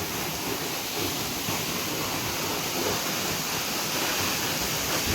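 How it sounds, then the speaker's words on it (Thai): A powerful, very tall waterfall deep in a Thai forest roars steadily and loudly, a dense, unbroken wash of falling water close by with no letup. "น้ำตกแรงสุด ๆ นะครับ"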